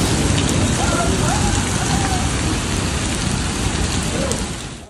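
Heavy rain from Saudi Arabian flash-flood storms pours down in a dense, constant roar, loud and close, with no break across the whole stretch and no voices.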